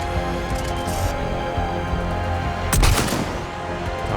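Gunfire from the sci-fi shooter Mass Effect 3 crackles steadily through a dense game soundscape, with a louder burst near the end.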